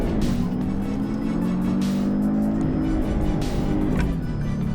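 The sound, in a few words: car engine revving to the red line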